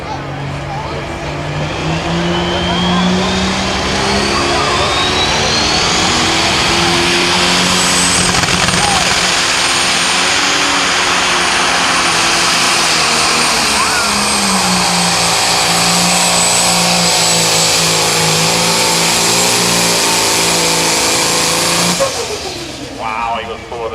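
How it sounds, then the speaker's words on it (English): A pro stock pulling tractor at an evening pull in Mound City, Missouri, its engine roaring loud and sustained as RPMs climb and large turbochargers whine rising overhead, under an announcer's voice, before the roar cuts off near the end. "Slowly build them RPMs up, start spinning those large turbochargers underneath."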